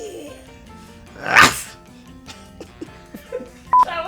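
A person imitates a dog with one loud, short bark-like yelp in the middle, surrounded by quieter voiced sounds and a brief sharp noise near the end.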